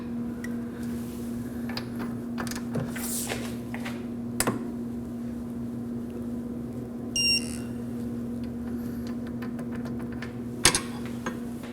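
A tool gives a short beep while a rear brake caliper bolt on a 2011-2012 Kia Optima is torqued to 115 foot-pounds, over a steady electrical hum with scattered faint clicks.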